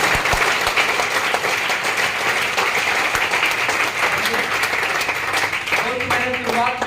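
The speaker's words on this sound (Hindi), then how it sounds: "तो ऐसी तालियां भी तो होनी चाहिए, एक जोरदार तालियां।" A crowd applauds loudly and continuously, dense clapping filling the whole stretch, with a voice briefly audible near the end.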